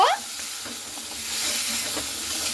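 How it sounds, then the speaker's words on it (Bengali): Drumsticks, potatoes and lentil dumplings are stirred in a pan for a vegetarian drumstick curry, giving a steady sizzle with soft scraping strokes of the spoon throughout, close and moderately loud, with no talking. "তো বড়িগুলো দিয়ে কিন্তু আমি 2-3 মিনিট খুব সুন্দর করে নাড়াচাড়া করে নেব।"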